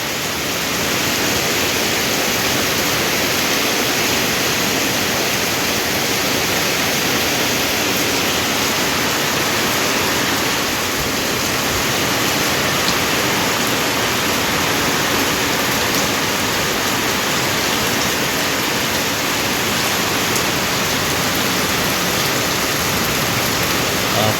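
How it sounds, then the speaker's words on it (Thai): Heavy rain pours down over rice fields, a loud, dense, unbroken hiss that stays constant from start to finish with no letup and no voices. "ฝนตกเนาะ"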